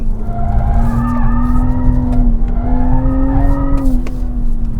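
A BMW Z4 prototype roadster's engine pulls hard in fourth gear, a steady rising drone that sweeps up, dips briefly as the revs settle, then climbs again, loud and close throughout.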